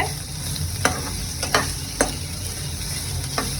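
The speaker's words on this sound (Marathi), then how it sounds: "ह्याला चांगलं मी तेलामध्ये फ्राय करून घेते" Ivy gourd (tendli) frying in hot oil in a pan, a steady close sizzle with a few sharp scrapes as the pieces are stirred, no voices.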